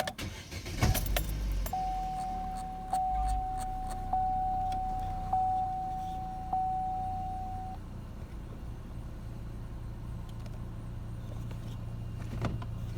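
A 2012 Chevrolet Cruze with the 1.8 engine cranks and settles into a low, steady idle rumble, with a sustained chime tone ringing over the first several seconds and no talking.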